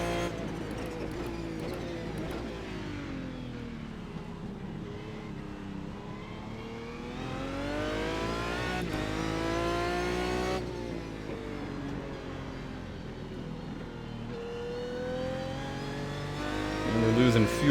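Aston Martin GT1 race car in iRacing at Phillip Island, its engine a continuous harmonic whine sweeping up and down through gear changes, steady and close, with someone talking over it.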